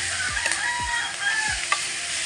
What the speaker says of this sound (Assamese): চব্জিকেইটা ধুনীয়াকৈ ফ্ৰাই হৈ গ'ল